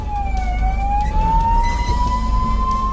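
An ambulance siren wails loud and close on a road, its tone sweeping slowly up and down without a break while traffic rumbles underneath; no distinct horn blast stands out.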